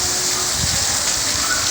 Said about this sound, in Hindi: अभी फ़िलहाल मूसलाधार बारिश हो रही है, बहुत तेज़ बारिश हो रही है यहाँ पर ना।